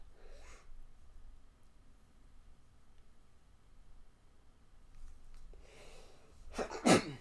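A single sharp, loud human sneeze bursts out near the end, after several seconds of quiet room noise and soft breathing, during a livestream of Untitled Goose Game and Skribbl.io.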